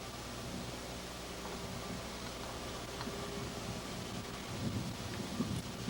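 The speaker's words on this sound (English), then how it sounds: "It's windy up here as always." Steady wind blows across a microphone on a high, exposed desert lookout, a continuous broadband rush with low rumbling buffets and no voices.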